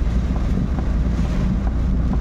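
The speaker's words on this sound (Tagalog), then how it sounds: "Oh, lakas ng hangin at ulan, no?" Strong typhoon wind roars steadily and buffets the microphone with a constant low rumble, with no pauses or voices.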